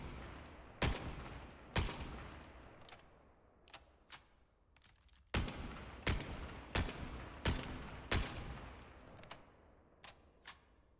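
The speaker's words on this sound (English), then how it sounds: "Now we have the first sniper on our list called the Harpe." Harpe sniper rifle in the shooter game Spectre Divide, fired in a series of about ten loud, sharp shots with ringing tails, some spaced over a second apart and a few quieter ones between, with no talk.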